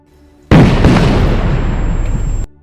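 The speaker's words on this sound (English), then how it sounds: "Suddenly, there is an explosion that causes him to pass out." A sudden loud explosion bursts in after a moment of quiet, its deep rumbling roar sustained for about two seconds before cutting off.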